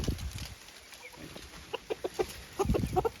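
A hen hiding near the coop gives soft, irregular clucks that build into a quicker burst of short notes toward the end, moderately close, over faint outdoor farmyard background.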